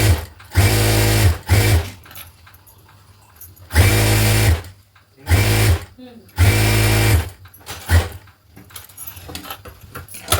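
Sewing machine stitching a folded strip for a blouse, running in several loud bursts of steady whirring separated by short pauses, close up, with no talk over it.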